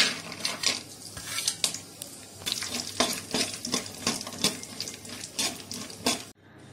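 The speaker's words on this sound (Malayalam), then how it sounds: "ഉള്ളി വറുത്ത അതേ എണ്ണയിൽ തന്നെ നമുക്ക് അണ്ടിപ്പരിപ്പും മുന്തിരിങ്ങയും കൂടെ വറുത്തെടുക്കണം." Cashews and raisins frying in oil left from frying onions for fried rice, with soft sizzling under repeated scraping and clinking of a metal spoon against the pan, stirred in irregular bursts.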